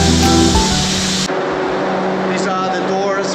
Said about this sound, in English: Here it's where the spraying happens.